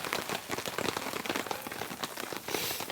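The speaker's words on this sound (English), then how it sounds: "It's pretty much raining now, although it's on the verge of snow." Steady rain patters densely on a tent during winter camping, near snow, a continuous crackling hiss with no voices.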